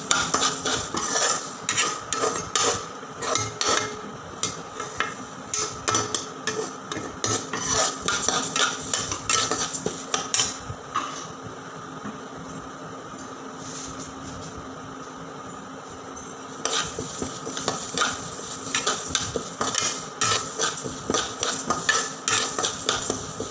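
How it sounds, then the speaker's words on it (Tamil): Moong dal dry roasting in a pan under constant stirring: a dense, rhythmic rattle of grains and spoon scraping the metal close by, with a quieter pause midway before the stirring resumes. "இப்போ இதை நல்லா வறுத்துட்ருக்கோம்."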